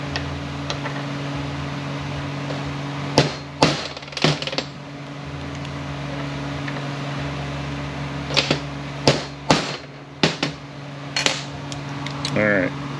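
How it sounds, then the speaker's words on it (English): A bushing tool stakes a bushing in place inside a TH400 automatic transmission, giving a series of sharp metallic taps and clinks in small clusters, close and distinct over a low steady hum. "I just take my bushing tool and I stake it in place"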